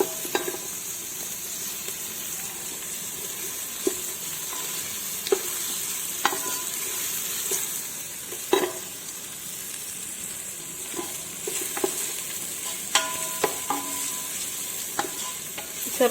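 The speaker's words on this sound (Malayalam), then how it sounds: "ഒരു സവാള ഇട്ട് കുറച്ച് പെരിഞ്ചീരകം ഇട്ട് വഴറ്റുകയാണ്" Onion and fennel seeds sautéing in a pan with a steady soft sizzle, broken by occasional sharp clicks of a utensil scraping and stirring, close and fairly quiet with no voices.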